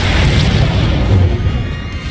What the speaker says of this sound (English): Warning. Critical explosions detected on the Foundry level.